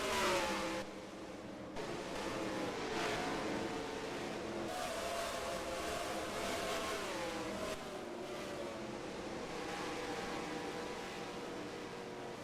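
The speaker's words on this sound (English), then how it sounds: "Another car down pit lane." NASCAR Cup Series race car at the Food City 500 running down pit lane, a loud continuous engine roar with rising and falling revs and other cars blending in the background.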